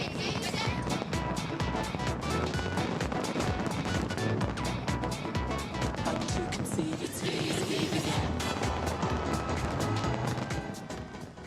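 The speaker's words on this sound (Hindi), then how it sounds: "नए साल का स्वागत आतिशबाजी के साथ किया गया।" New Year fireworks explode in a dense, continuous barrage of loud crackling bursts and booms that barely pause before fading slightly at the end.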